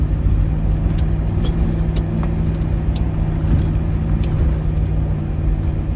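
Land Rover Defender 110 engine cruising along, a steady, continuous low rumble with road noise holding at a constant, fairly loud level and no voices.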